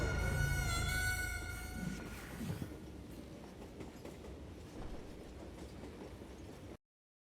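Train rolling along in the Western shooter game Call of Juarez: Gunslinger, a steady dense rumble with faint clatter, briefly carrying a high tonal whine at the start before settling into continuous rolling noise, then cutting off abruptly.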